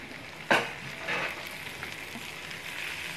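Green peppers and onions fry in a pan, a soft steady sizzle opened by a sharp scrape and clatter as they are stirred, followed by a second brief stirring rustle, with no talking.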